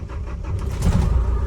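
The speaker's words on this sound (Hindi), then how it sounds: "पहले गाड़ी करते हैं स्टार्ट।" A Black Bull vehicle's engine starts and settles into a low, rumbling idle, close and moderately loud with no voices.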